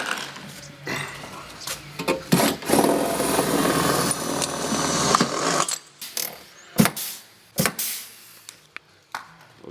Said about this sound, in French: On perce dans le rond qu'on a collé avant, au tout début.